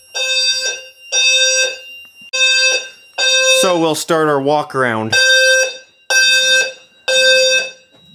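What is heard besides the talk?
fire alarm annunciator sounding during system test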